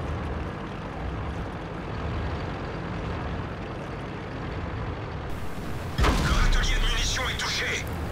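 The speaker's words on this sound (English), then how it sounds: "Our 113 decided to shoot us" An enemy tank's cannon shot strikes the player's tank on the Syrian coast map in World of Tanks, a sudden loud crack and boom that breaks through a steady engine rumble and lingers as a harsh, bright rattle.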